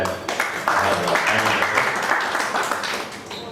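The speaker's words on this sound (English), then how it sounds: "A round of applause for that." Audience applause at a study circle meeting of a Bangalore professional branch, steady clapping from a room of members over several seconds, fairly close and moderately loud, with some voice mixed in beneath.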